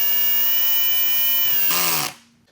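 A cordless drill driver with its clutch set low snugs screws into a cast aluminum miter saw stand. A steady high whine runs for under two seconds, then a brief louder burst and a clutch-slip rattle before it stops.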